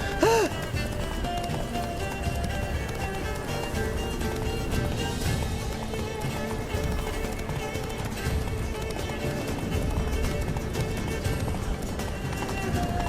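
Horse Roach galloping in The Witcher 3, hooves pounding at a steady run under a dense game soundtrack, with voices talking over it throughout.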